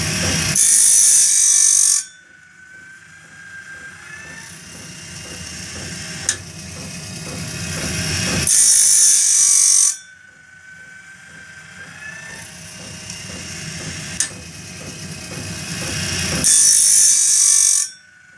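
Band saw blade sharpener wheel grinding the gullets of a band saw blade, loud harsh bursts of grinding in a repeating cycle, separated by quieter mechanical ratcheting as the blade indexes forward, with occasional sharp clicks.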